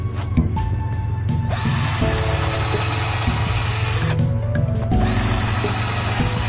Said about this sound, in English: I'm going to pre-drill them